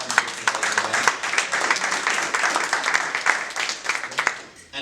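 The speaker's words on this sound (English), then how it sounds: "So, round of applause to them." Applause from an event crowd honoring sponsors at a Cameroonian entrepreneurship gathering, dense broadband clapping that holds steady for the whole stretch with a few sharper claps rising out of the mass.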